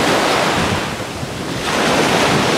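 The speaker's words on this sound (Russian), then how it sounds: "Такое море в Жампене это недалеко от Паттайи" Sea waves roll onto Jomtien beach near Pattaya, Thailand, in a loud, close, continuous surf roar heavily mixed with wind buffeting the microphone, briefly easing midway before swelling again; no voices.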